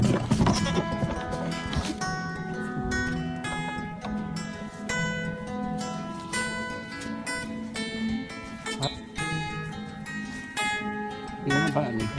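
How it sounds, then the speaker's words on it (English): Bleating from a farm goat herd, a cluster of harmonic calls that overlap and repeat at close range throughout, loud and busy with barely a pause. "Our herd of goats are some of the happiest animals that I've ever known."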